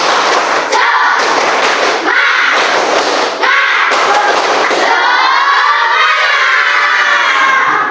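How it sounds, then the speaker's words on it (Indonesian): A classroom of fifth-grade children clap together in a rhythmic pattern, loud and close, with shouting and cheering from the children and a lively group chant. "Ayo sekarang tepuk dulu. Tepuk semangat."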